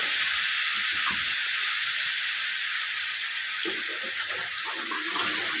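Water pours steadily into spices in a cooking pan, a continuous hissing stream with faint clatter underneath, close and alone without talk.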